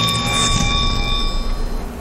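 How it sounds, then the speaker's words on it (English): A layered synthetic sound effect from Call of Duty Zombies, a trap piece being placed into a metal detector: steady ringing electronic tones over a dense low rumble, loud and sustained for about two seconds. "the player basically placing one of the trap pieces inside of the metal detector"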